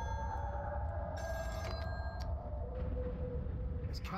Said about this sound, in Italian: Di nuovo il telefono.